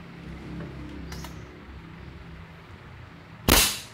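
An airgun pumped with a long foot pump fires one sharp, loud crack near the end, after a quiet stretch with faint background noise.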